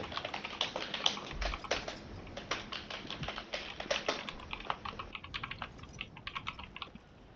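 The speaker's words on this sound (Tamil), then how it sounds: "முறுக்கோட இது கீபோர்டு ரொம்ப சத்தம் கேக்குது." Loud, rapid typing on a computer keyboard during a Warzone 3 gaming session, a dense clatter of close key strikes with irregular bursts and brief pauses throughout.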